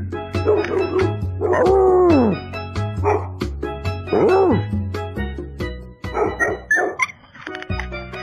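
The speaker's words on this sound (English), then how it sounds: "Who's that dog, Elvis?" A dog barks and yips repeatedly at close range, with whining, drawn-out howl-like cries mixed in, while people talk over and between the barks.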